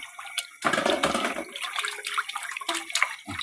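Fish rinsed in salt water while preparing Lao-style fermented fish, giving a close, continuous sloshing and splashing of water that runs steadily for a few seconds with no talk.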